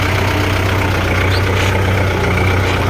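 A loud tractor engine idles steadily, a constant low rumbling drone with no pauses.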